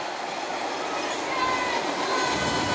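A Boston T subway train thunders past behind the stands at an outdoor ultimate frisbee game, a steady loud rumble with faint wheel squeal that swells slightly as it goes by, with no talk over it.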